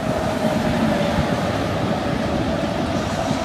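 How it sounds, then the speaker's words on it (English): An empty freight train rolls past nearby as a steady, loud rumbling roar with faint rattling wagon noise, continuous and without talking. "Coincidentally, freight train."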